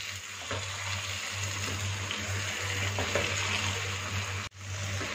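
Fenugreek leaves frying in a pan, a steady close sizzle with stirring throughout and a brief drop near the end.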